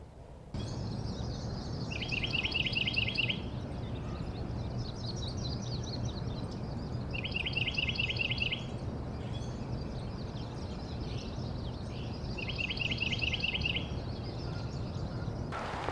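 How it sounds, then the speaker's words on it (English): Repeated bursts of rapid, trilling woodpecker calls ring out at intervals over a steady outdoor wash in a park, fairly distant, with several calls overlapping. "I want to know where all these woodpeckers are at. I can hear them to the left and to the right."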